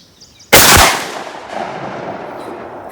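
A single loud, close gunshot from a bolt-action 12 gauge shotgun firing a 1 1/4 ounce slug at a range, with a sharp blast followed by a rumbling echo that fades slowly.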